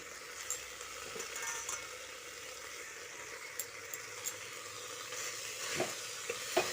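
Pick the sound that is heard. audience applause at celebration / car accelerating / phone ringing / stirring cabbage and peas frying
stirring cabbage and peas frying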